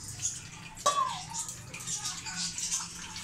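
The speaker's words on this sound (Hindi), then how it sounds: "अब हम इस दीवार के ऊपर ना गर्म पानी डालेंगे।" Hot water poured by hand over a kitchen wall during deep cleaning, a close, uneven splashing and trickling with a sharp splash near the start, under a voice.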